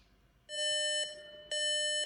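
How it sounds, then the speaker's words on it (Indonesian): Beeps from a prayer-time clock app on an Android TV, sounding as two bright electronic tones, the first held about half a second and the second following after a short gap, loud and clean against near silence. "Ini pindahkan ke suara bip."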